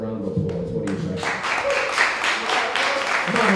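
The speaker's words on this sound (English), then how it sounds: "I think he deserves a round of applause." A crowd at a political rally in Freeport, Texas breaks into applause and cheering that swells after a voice, continuing as a steady, dense wash of clapping.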